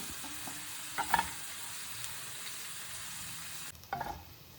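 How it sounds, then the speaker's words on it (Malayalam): Grated coconut dry-roasting in a pan in a home kitchen for a Kerala kadachakka (breadfruit) curry, heard as a faint, quiet sizzle with a few soft scraping stirs near the start and again toward the end. "അടുത്തുള്ള നമ്മുടെ തേങ്ങ വറക്കണ്ട."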